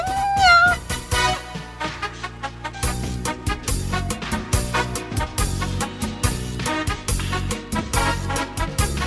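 Cats meow amid a busy musical comedy soundtrack in an Ilocano household scene, with a couple of short rising meow-like tones near the start before dense music and percussive hits take over.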